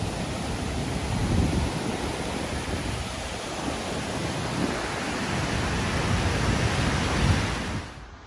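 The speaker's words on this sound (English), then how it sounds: "You can still hear the falls behind me" A 200-metre lower waterfall in a multi-tier falls complex sends a steady, broadband roar that holds evenly at moderate distance for several seconds before cutting off abruptly at the end.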